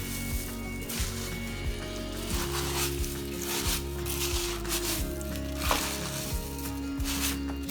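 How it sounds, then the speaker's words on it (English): Food being stirred in a hot pan makes a steady, even sizzle with a soft scrape now and then, under background music. "now we're just gonna stir this all up"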